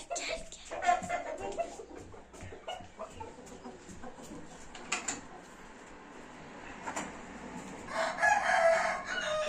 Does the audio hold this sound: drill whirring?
no